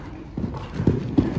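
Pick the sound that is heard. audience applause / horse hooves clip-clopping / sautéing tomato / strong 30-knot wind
horse hooves clip-clopping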